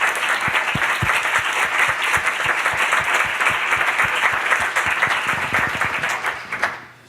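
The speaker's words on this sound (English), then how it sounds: "Can we get a round of applause for our speakers?" Sustained audience applause for the speakers at a talk on diverse and inclusive teams, many hands clapping steadily at close range before tapering off near the end.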